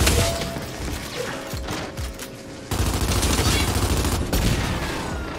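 Rapid gunfire from the shooter video game Gears 5 rattles in dense bursts across the whole stretch, loud and close, with a sharper surge partway through.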